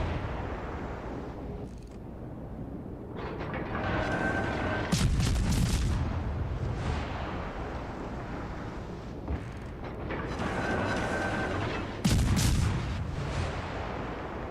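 Heavy weapons fire aimed at the Wichita in a video game: booming artillery-like blasts and rumbling volleys that come in loud bursts separated by quieter stretches.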